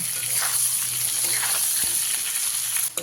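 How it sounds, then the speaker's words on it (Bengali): Pieces of elephant foot yam fry with turmeric over a medium flame, giving a loud, steady, close sizzle that continues unbroken throughout. "ওলগুলোকে লাল লাল করে ভেজে নিতে হবে গ্যাসের ফ্লেমটাকে মিডিয়ামে রাখবেন"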